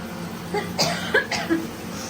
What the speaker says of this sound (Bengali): শুকনো লঙ্কা পুড়িয়ে হাঁচি কাশির মতো অবস্থা করে দিয়েছে আমাদের